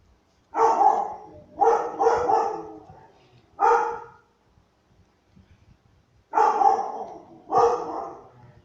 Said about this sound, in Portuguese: Por que para de latir, na moral?